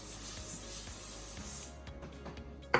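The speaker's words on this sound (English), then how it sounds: "Okay, I'm gonna use any kind of spray, industrial," An aerosol can of cooking oil spray hisses steadily onto parchment paper for about two seconds, close and fairly soft, followed by light handling noises.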